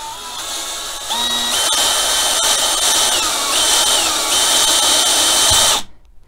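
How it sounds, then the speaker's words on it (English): A cordless power drill whines steadily, its pitch rising as it bites into wood, then cuts off abruptly near the end. "Then drill down."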